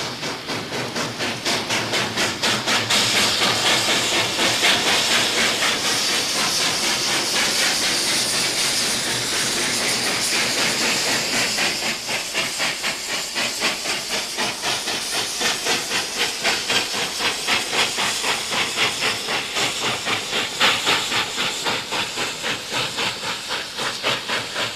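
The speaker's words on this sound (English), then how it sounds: "Listen to the sound of the engine echoing off the massive tailings pile." A steam locomotive climbs a steep grade near the small town of Ruth, its loud rhythmic exhaust chuffs and hiss echoing off a massive mine tailings pile, steady and close throughout.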